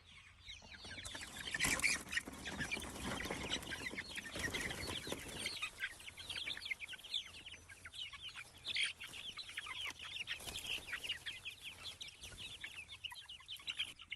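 A flock of dual-purpose chickens in a pasture chicken-tractor setup clucks and chatters continuously, with layered overlapping calls at moderate distance and no talking.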